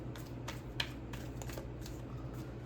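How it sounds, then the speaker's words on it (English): Tarot cards are shuffled close by in quiet, soft rapid riffling and light taps over a low steady hum. "I will not stop shuffling until I feel like it's meant."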